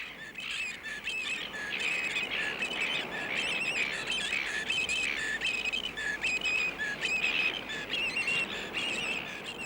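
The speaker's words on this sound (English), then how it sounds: "These are baby cormorants." Baby cormorants in their nests call continuously, a dense chorus of raspy squawks and chirps in repeated bursts, loud and close, with no talking.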